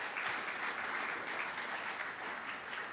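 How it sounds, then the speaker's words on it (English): An audience at a multiple myeloma patient and family seminar in Los Angeles claps steadily throughout, a dense, even wash of many hands, somewhat distant and soft. "big round of applause"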